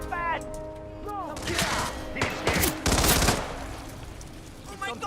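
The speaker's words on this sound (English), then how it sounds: "I hear gunshots." Rapid bursts of gunfire in a Hitman 3 mission in Mumbai, India: dense, loud volleys of automatic shots and thuds, with a player talking over parts of it.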